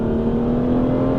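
An Aston Martin V12 Vantage with its V12 engine paired to a manual gearbox, heard close by as a steady, loud engine drone with a strong low hum, running continuously without any voices.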